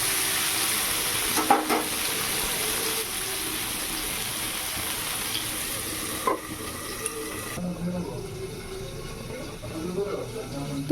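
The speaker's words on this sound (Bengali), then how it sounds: "তারপরে চাপালাম পটল ভাজা।" Pointed gourd slices fry in a pan with a steady, even sizzle that lasts throughout, with a few brief clinks and scrapes rising now and then above the frying.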